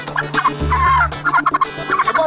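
Turkeys gobble loudly and close, their rapid warbling calls repeating in bursts with a low rumble beneath, alone without any talk.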